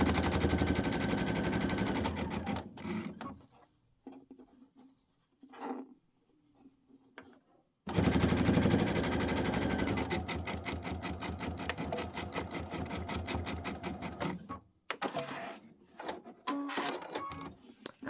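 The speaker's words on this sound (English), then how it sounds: "we're going to sew the whole thing" A sewing machine stitches quilt pieces for a pinwheel block in long rapid bursts of fast mechanical chatter, pausing briefly between runs, close and steady with no one speaking.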